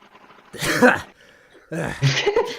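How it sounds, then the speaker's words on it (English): Two harsh, loud coughing bursts close by, separated by a short pause, with a faint murmur of background noise between them. "I've got a bit of a cough, so sorry"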